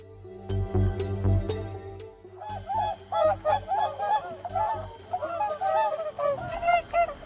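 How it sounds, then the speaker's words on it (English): A flock of black swans honks on a golf course while chasing a man, with a rapid cluster of overlapping nasal honks, loud and close after a few seconds of low rumbling noise. "Another man was overwhelmed and chased by a flock of black swans on a golf course."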